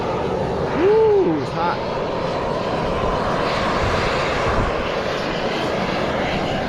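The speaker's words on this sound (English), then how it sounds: "It's like an air blower, blowing air out from the hole." Steady, broad rushing roar of gas blowing out of a hole in Yellowstone's thin-crusted thermal ground, continuous and close, with a person briefly speaking over it.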